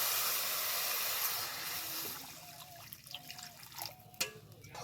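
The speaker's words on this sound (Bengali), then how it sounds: "এবার দিয়ে দেবো পরিমাণ মতো জল।" Water poured into a pan of spiced aubergine curry (tel begun), a steady hiss and rush that gives way to sizzling, soft bubbling and occasional drips, close and fairly quiet.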